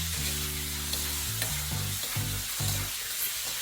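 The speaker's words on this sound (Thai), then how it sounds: "คราวนี้ก็ผัดทุกอย่างให้เข้ากันให้หมดเลยครับ" Chicken giblets stir-fried with oyster sauce, seasoning powder and sugar sizzle in a pan, with repeated scraping strokes of a spatula over a steady hiss, close and fairly quiet, no talking.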